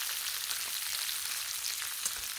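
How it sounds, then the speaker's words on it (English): Steady, dense sizzling of bacon frying on a hot Blackstone griddle, with a continuous crackle and scattered pops, close and fairly loud, no voices. "It's sizzling, it's popping."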